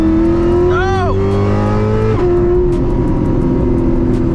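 A car accelerates hard from a 50 mph roll, its loud engine tone climbing steadily before a sharp gear change about halfway through, then pulling on under a faint voice.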